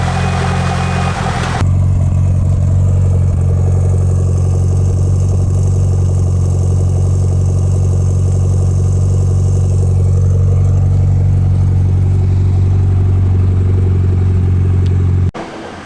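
The rebuilt engine of a Mitsubishi Lancer Evo 8, run after an oil change with freshly seated rings, settles into a steady, loud, close idle with a deep, even hum after a brief rougher start.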